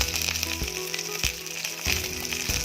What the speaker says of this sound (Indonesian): Jadi kita masak ayamnya sampai ada warna-warna agak kecoklat-coklatan ya.